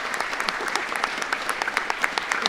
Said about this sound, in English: If we can just give a big round of applause to our staff and our volunteers.